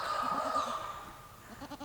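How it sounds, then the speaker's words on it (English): Pigs on a homestead grunt and squeal faintly in the background, short repeated calls coming in small bursts under a steady hum. "excuse the pigs in the background"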